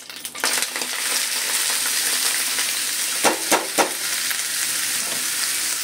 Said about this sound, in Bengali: দেখেন তেলগুলি কেমন লাফাচ্ছে।